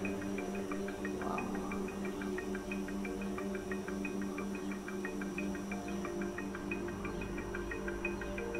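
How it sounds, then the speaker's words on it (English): Electrical fixtures buzz overhead in an empty, echoing abandoned high school gymnasium, a steady faint hum with a regular pulsing throb, alone and unbroken. "With the buzzing of electrics above us, the ambience in the empty gymnasium was very atmospheric"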